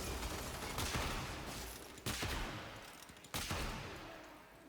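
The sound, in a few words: Ferrox weapon shots in the video game Warframe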